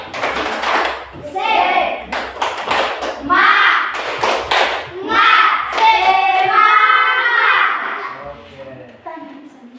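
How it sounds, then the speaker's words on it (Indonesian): A school class claps the 'tepuk semangat' chant, crisp rhythmic bursts of hand claps alternating with children's voices calling out together, close and lively. "Tepuk semangat."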